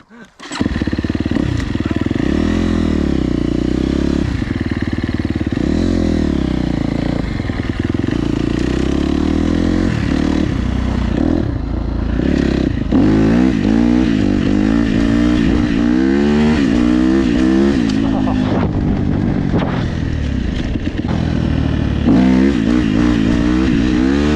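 Dirt bike engine revving and roaring across a frozen lake, loud and close throughout, with repeated throttle surges and shifting pitch as the bike accelerates and slows, a few brief voices mixed in.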